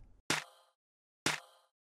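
Two crisp, bright open techno clap samples sound about a second apart, each with a wide, slightly lingering tail, alone and fairly quiet.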